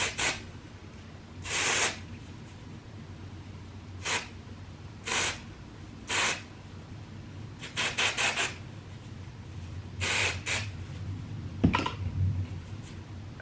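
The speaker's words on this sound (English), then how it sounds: "I love a little bit of texturizing spray" City Grit matte texturizing hair spray spritzed from an aerosol can, in short sharp hissing bursts, some single and some in quick clusters of two or three, close up in a quiet room.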